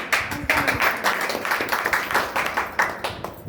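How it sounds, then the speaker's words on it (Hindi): A seminar audience claps together in a close, loud run of rhythmic hand claps, beating steadily at a moderate pace with no talk over it. "ताली बजाने के लिए क्यों बताना पड़ा?"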